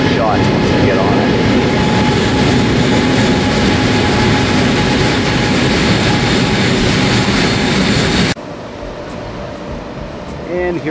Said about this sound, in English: this is an example of the KTXs, which is the Korean bullet train. So here it comes just now.